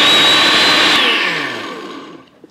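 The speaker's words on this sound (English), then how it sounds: "The blender makes it nice and smooth." A blender whirs loudly and steadily, mixing crepe batter, its motor pitch dropping as it winds down and fades out toward the end.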